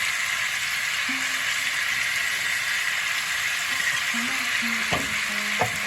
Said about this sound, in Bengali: একটু নেড়ে চেড়ে দিই।